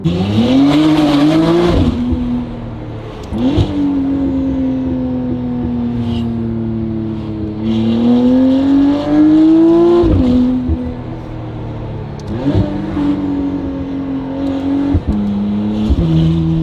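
A McLaren Artura with a free-flow race exhaust revs and roars repeatedly, rising and falling in pitch, loud and close, with sharp pops between revs.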